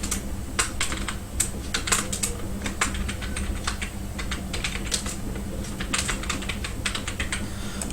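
Rapid, steady typing on a computer keyboard while entering product details, with dense clicking keystrokes throughout over a low electrical hum, close and clear, with no voices.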